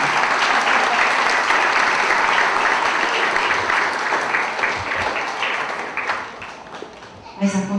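Congregation at a church service honouring a pastor applauds in a loud, sustained wash of clapping that gradually thins toward the end, with a voice speaking over it.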